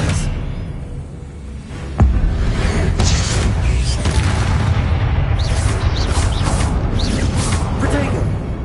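A spell cast in the wizarding game Hogwarts Legacy bursts with a sudden booming impact partway through, then a dense rumbling wash of magical effects and sparkling chimes carries on loudly to the end.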